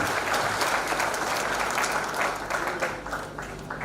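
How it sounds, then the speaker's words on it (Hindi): Crowd at a Mumbai organisational event applauding warmly, dense overlapping clapping throughout that tapers slightly toward the end. "एक बार जोरदार तालियां हमारी महिला शक्ति के लिए।"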